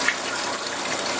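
Fabric softener poured into a Panda B45 portable washing machine already filled with water, heard as a continuous close splashing, rushing stream of liquid.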